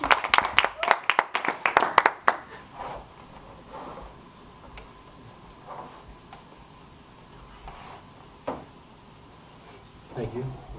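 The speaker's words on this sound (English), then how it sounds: "and let's clap" An open mic audience claps briefly in a burst of sharp, close claps that die out within a couple of seconds, followed by quiet room sound with scattered faint taps and murmurs.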